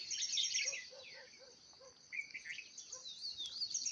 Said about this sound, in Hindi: भांति भांति की पक्षियों की आवाज़ सुनिए आप